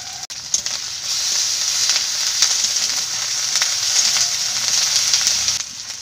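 Ground onion paste and ginger paste sizzle steadily in hot oil in a pan while a home cook prepares a bottle gourd curry, a loud, continuous close hiss with faint stirring clicks and no talking.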